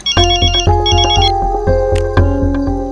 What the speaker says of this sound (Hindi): सोना का फोन लो, मेरे बात कराओ।